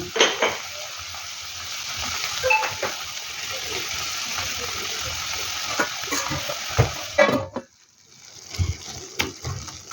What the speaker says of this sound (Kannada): ಈರುಳ್ಳಿ, ಕರಿಬೇವು ಮತ್ತು ಬಟರ್ ಇದರಲ್ಲಿ ಬೇಯಿಸಿ.